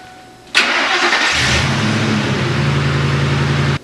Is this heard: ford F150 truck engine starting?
yes